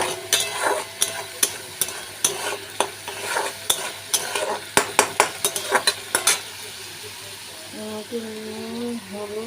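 Fish curry masala stirred and fried in a pan for macher jhal, a spoon scraping in sharp repeated strokes over a steady sizzle, with a voice heard near the end.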